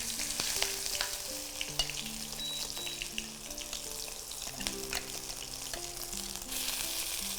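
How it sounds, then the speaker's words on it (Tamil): A ground brinjal and onion paste fries in hot oil, giving a steady close sizzle with scattered crackles and faint scrapes of stirring throughout, quiet overall. "எண்ணெய் நல்லா ஹீட் ஆகிடுச்சு நம்ம அரைச்சி வச்ச இந்த கத்திரிக்காய் வெங்காய பேஸ்ட்டை அது கூட சேர்த்துக்கலாம்"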